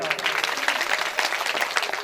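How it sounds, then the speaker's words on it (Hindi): Steady clapping from a Bhagavat katha audience in a village gathering, dense and continuous across the whole moment, applauding the mothers present. "इन लोगों के लिए, माताओं के लिए जोरदार ताली बजाओ।"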